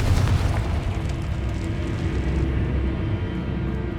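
Repeated Confringo fire spells in Hogwarts Legacy, a continuous loud, low, roaring blast that rumbles on for the whole stretch with no pause.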